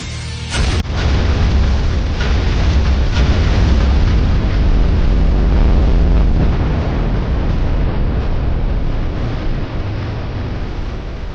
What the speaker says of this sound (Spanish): La explosión había tirado la pared en la que el monstruo se encontraba.